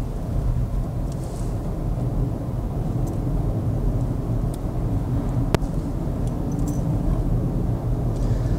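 Volkswagen Polo United engine pulling in fourth gear through a series of gentle bends, heard from inside the cabin as a steady, loud low drone with constant road rumble and no pauses.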